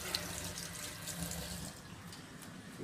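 Hot water runs steadily from a tap into a sink in a house, a faint, even splashing rush with no talking.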